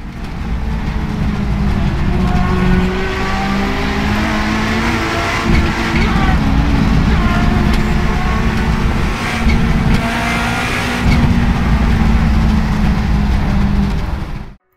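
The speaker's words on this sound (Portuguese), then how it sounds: "e o Toyota Celica 4WD Turbo." Toyota Celica 4WD Turbo rally car in a racing video game, its engine droning loud and steady for the whole stretch with gear-change dips and rising revs.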